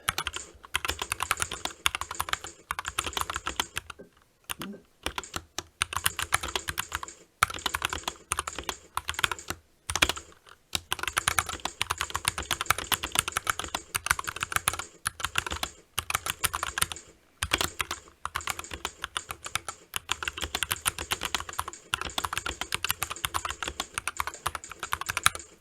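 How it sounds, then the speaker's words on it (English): Rapid typing on a SteelSeries Apex 9 gaming keyboard, recorded close up: dense bursts of clicky keystrokes run in fast runs, with a few short pauses between flurries. "We're going to do the typing test in two modes."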